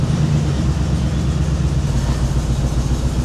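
A sports car's engine idling roughly and shaking, a loud, steady, close-up drone with a low rumbling pulse and no voices.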